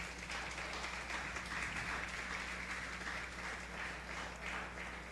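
Church congregation applauding during a sermon, a soft, distant wash of clapping held at an even level for several seconds.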